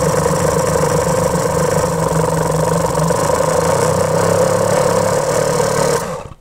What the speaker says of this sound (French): Le fait que le moteur monte en régime, c'est qu'il vient de s'amorcer.